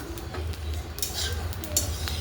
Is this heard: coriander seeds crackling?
yes